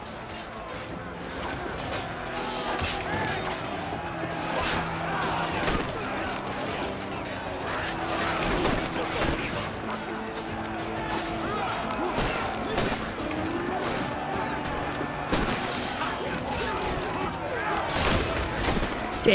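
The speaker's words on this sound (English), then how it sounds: "I'm just shooting at people." Gunfire in Assassin's Creed Black Flag, scattered pistol and musket shots popping irregularly amid battle noise, with a person talking over much of it.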